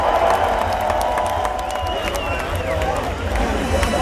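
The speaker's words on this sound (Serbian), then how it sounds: "Još jedan veliki aplauz" Concert crowd at an evening beer festival in Belgrade, applauding and cheering loudly and continuously, a dense wash of clapping and shouts that stays steady throughout.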